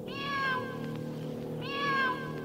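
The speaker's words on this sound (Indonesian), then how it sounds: "aku mendengar suara seekor kucing di atas atap rumah kita" Two drawn-out cat meows from a rooftop, one near the start and another past the middle, over a steady low background hum.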